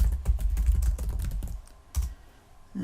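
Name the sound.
typing on a computer keyboard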